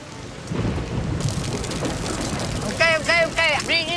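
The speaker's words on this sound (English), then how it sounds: "I think they're getting rained on here." Steady rain falls outdoors in Manila, a dense continuous hiss close by with occasional heavier gusts, while voices talk over it in the second half.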